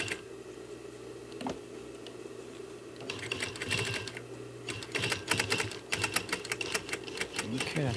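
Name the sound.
sewing machine stitching a seat cushion cover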